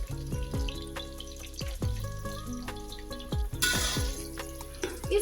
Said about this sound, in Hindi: देखिए तेल अब गर्म हो चुका है। अब हम इसमें प्याज डालेंगे।